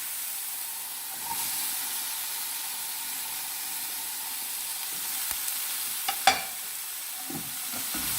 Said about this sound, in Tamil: இது கொஞ்சம் வதங்கி வரட்டும்.